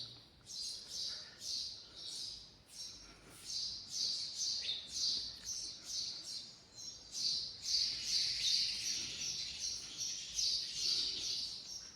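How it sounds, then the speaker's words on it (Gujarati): Birds chirp around a Jain pilgrimage temple at Shankheshwar, a faint, steady chorus of high twittering calls repeating throughout with distant background ambience and no talking. "શાંત પક્ષીઓનો કલરવ સંભળાય છે."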